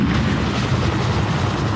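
A Piasecki H-21 tandem-rotor helicopter flies with a dense, continuous rotor and engine roar that stays loud and steady throughout, with no voices.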